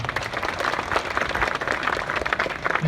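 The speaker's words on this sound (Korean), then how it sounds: "여러분 이분들께 큰 박수 한번 좀 부탁드리겠습니다." A crowd applauds with dense, steady clapping that holds for a few seconds.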